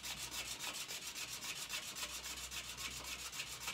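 A wooden pen blank being sanded by hand along the grain, giving a steady, close, rhythmic rubbing with fast repeated back-and-forth strokes and no voices.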